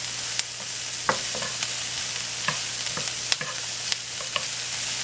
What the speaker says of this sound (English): I'm cooking the peppers and the onions 2 minutes.